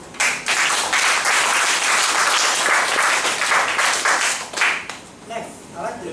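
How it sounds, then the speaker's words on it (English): Enthusiastic applause from a Toastmasters club audience, dense clapping that swells and then tapers off into scattered claps near the end. "let's give a round of applause to this."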